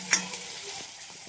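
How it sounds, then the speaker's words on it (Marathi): A tempering sizzles briefly in a pan for potato curry, with a quick hiss and a couple of sharp clinks of a spoon up close. "कोथिंबीर थोडीशी फोडणी टाकली"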